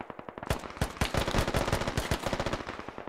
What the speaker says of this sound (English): Are those our machine guns or their machine guns?